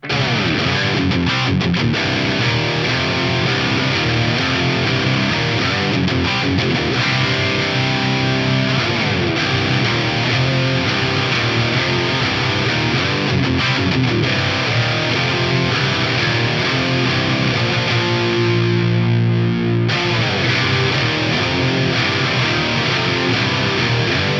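A guitar through an Axe-Fx III plays a sustained, dense part, washed in reverb from two impulse responses with a thick pitch-detune shimmer, loud and steady throughout.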